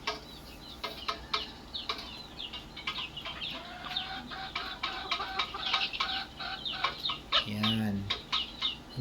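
Pullet chickens of quality breeding stock cluck repeatedly at a farm, with one louder squawk near the end, under steady background noise and faint voices.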